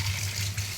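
Tap water runs in a steady gush as a tea strainer is washed, close and continuous for under a second.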